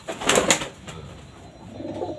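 Songgo Ratu racing pigeons coo inside a cage, a couple of close, clear coos near the start followed by softer, quieter murmuring, with no talking.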